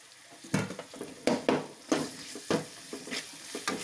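Rice with salt and ginger-garlic paste frying in a pan, a soft sizzle under repeated scraping and stirring strokes, roughly ten distinct clatters at an uneven rhythm.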